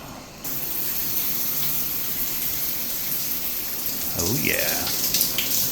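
A shower runs steadily at a campground, a constant hiss of spraying water with a brief splashy swirl near the end; someone speaks a couple of words over it.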